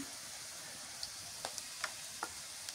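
Garlic paste fries in hot oil with a soft, steady sizzle, and a few faint ticks and scrapes of stirring fall at irregular intervals.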